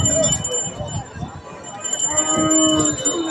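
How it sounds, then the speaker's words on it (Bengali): Crossbred dairy cows at a cattle market let out a few low moos amid busy crowd talk and faint bells, the calls close and loud against the market chatter. "সামনে দেখছেন ক্রস জাতের হাড্ডিসার গাভী গরু।"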